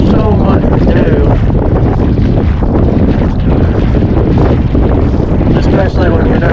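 Strong wind blows across a Florida beach, buffeting the microphone with a loud, constant rushing roar that never lets up.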